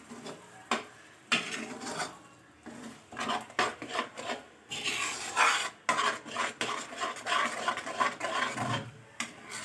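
A spoon scrapes and stirs food around a metal pan, with irregular rasping strokes and occasional clinks against the pan's side, steady and close over about ten seconds.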